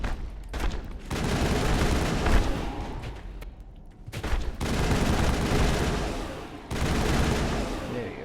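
Sustained rifle gunfire in the Mass Effect video game, loud dense bursts of rapid shots in long stretches, broken by brief pauses.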